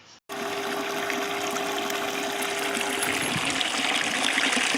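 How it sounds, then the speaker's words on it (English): An old bilge pump rigged in a small rowboat runs steadily, pushing out water with a continuous gushing, pouring wash and a faint motor hum, loud and close after a brief quiet start. "So what I did was I hooked up a old bilge pump that Dustin had"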